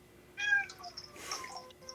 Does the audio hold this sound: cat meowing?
yes